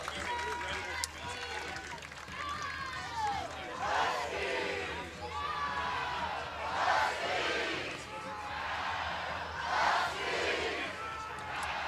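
A crowd cheers and roars in swelling waves at a 2018 NCAA softball super regional between Washington and Alabama in Seattle, with a commentator talking over the noise.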